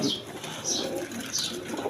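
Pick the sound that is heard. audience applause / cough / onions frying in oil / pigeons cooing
pigeons cooing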